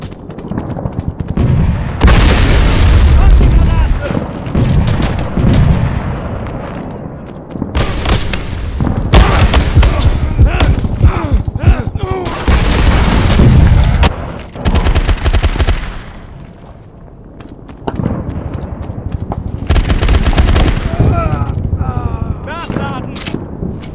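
Heavy booming blasts mixed with rattling automatic gunfire during a video game firefight, loud and repeated in separate bursts with brief lulls between them, while voices shout over the combat.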